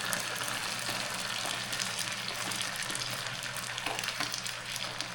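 Chopped onions sizzling in melted butter in a pan, a steady close crackle and hiss, moderately quiet, with no talking.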